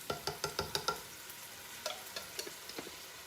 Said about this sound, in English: I'm going to go ahead and add in that can of fire roasted diced tomatoes.